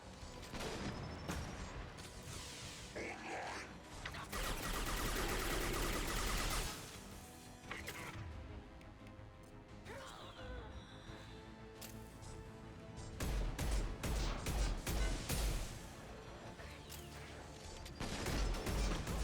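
Mass Effect 2 combat weapon fire: repeated bursts of shots and heavy impacts over a busy battle din, loud clusters coming in waves, with distant voices.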